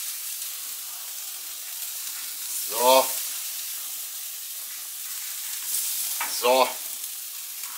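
Plum butter spare ribs laid bone side down on a hot grill give two short bursts of sizzling and spitting, with a steady soft hiss between them and a brief voice at each burst.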